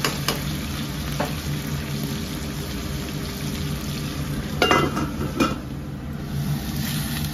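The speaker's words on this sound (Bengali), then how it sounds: "আলুটা হয়ে গেছে ভাজা" Potato pieces with turmeric sizzle steadily in a hot pan for a potato and rice dish, a continuous close frying hiss broken by a few sharp scraping stirs.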